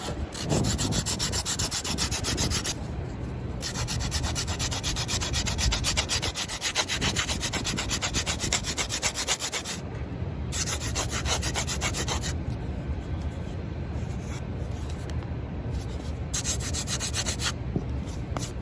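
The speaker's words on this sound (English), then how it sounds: "I'm going to sand from this template to that template, straight across." A foam bottle mock-up sanded flat by hand between templates, giving a continuous close rasping rub in long steady strokes, with a few short pauses and no talk.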